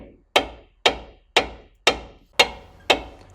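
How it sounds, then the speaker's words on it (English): A hammer tapping a front strut bolt through on a 2006-2017 Toyota Tundra, six crisp evenly spaced metallic strikes, close and clear with brief ringing decays. "I'm going to grab my hammer and my little pry guy, and I'm just going to tap this giant bolt through"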